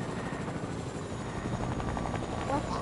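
A helicopter flying in a video game, with a steady rotor and engine drone held at a moderate level throughout while voices talk faintly over it.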